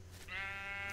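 A single Minecraft sheep bleat, a wavering nasal cry that rises and holds for most of a second over faint background hum, close and clear with no talking.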